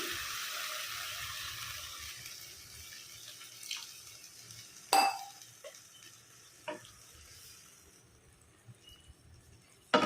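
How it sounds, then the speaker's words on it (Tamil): About a cup of water pours into a hot frying pan of cooked fenugreek greens with a steady, fairly soft hiss, broken by a few sharp metallic clinks of a utensil. "இப்போ ஒரு கப் அளவுக்கு நம்ம தண்ணி விட்டுக்கலாம்"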